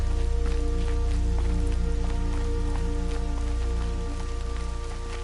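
Rain falls steadily in a PS4 video game, a dense, continuous patter of drops on surfaces over a low, droning ambient hum, loud and close with no voices.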